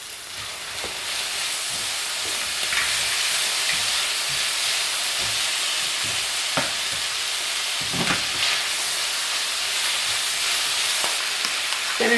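Pesto and salmon fry in a hot pan, a steady loud sizzle and hiss running throughout with scattered scraping clicks of stirring, close up and with no talk over it.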